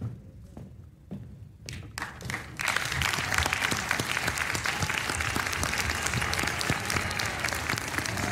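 An audience applauds at a national human rights award ceremony in Chile. A few scattered claps at first swell into loud, sustained applause as the crowd stands.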